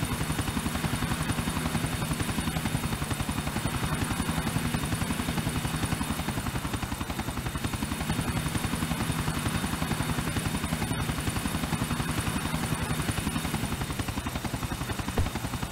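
A helicopter in GTA IV thumps continuously with fast rotor chop and a loud engine whine, steady and close throughout.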